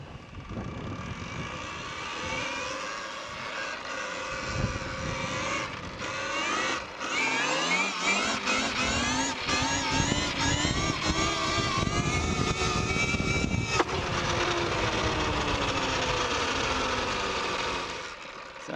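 An electric KTM Freeride E-XC dirt bike pulls wheelies up a road shoulder, its motor whining up and down in repeated rising and falling sweeps, loud and close, with tire and road noise beneath.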